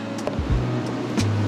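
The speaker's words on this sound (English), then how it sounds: "We woke up to some waves crashing, which is cool." Ocean waves break on the shore at San Onofre State Beach in California beside a campsite, heard as a close, continuous low roar with soft surges of surf and no voices.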